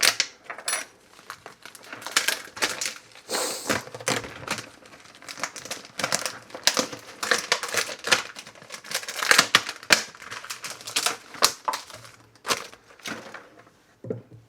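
A spoon cutting through store-bought puff pastry in a kitchen, a close, busy series of crisp crackly crunches and scrapes that comes in irregular bursts, with no talking.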